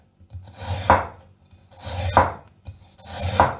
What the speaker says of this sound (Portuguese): Agora cortar assim, em filetes.